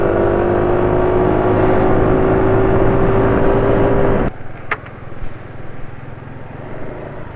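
A diesel car engine running on Unioil Turbo SAE 40 oil holds a loud, steady revving drone, then the revs drop away sharply to a lower, uneven idle rumble.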